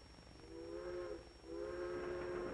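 Steam train whistle from a riding train, two long sustained harmonic blasts, the second louder and longer, over a steady rumble of the moving rail cars.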